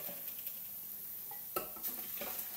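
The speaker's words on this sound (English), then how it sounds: "we are frying our potatoes." Potatoes frying in a pan for a Spanish omelette, a quiet sizzle with soft stirring and a few scraping clicks of a utensil against the pan.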